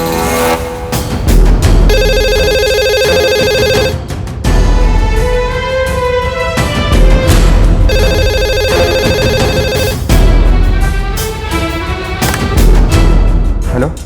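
A landline telephone rings in two long electronic bursts, each about two seconds, over a loud, dense backdrop of dramatic music and rumbling effects in a crime drama scene.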